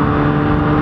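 A car engine revs loudly and steadily as the driver accelerates hard, heard from close by with a strong harmonic drone and no talking.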